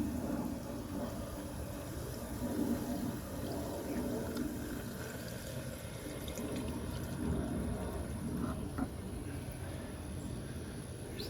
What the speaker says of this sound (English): There's some bubbling going on.